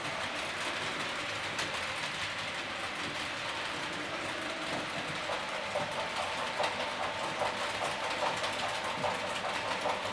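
A Class 40 diesel locomotive hauls a passenger train past at a distance, a steady engine drone blended with rolling wheel noise and faint rhythmic clickety-clack of carriages throughout.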